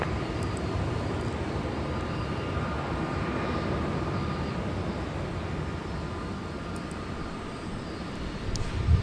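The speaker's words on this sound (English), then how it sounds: "This is an Airbus A330-300. And this particular aircraft sports the Pratt & Whitney PW4000" Airbus A330-300 jet with Pratt & Whitney PW4000 engines at Minneapolis–St. Paul Airport, a steady, broad distant engine roar holding evenly throughout with a faint hum and no voices.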